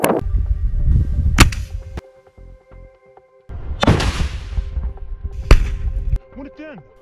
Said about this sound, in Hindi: आईडीएफ के एक टैंक पर रॉकेट लॉन्चर से गोला फायर करता है, जिसमें जोरदार ब्लास्ट होता है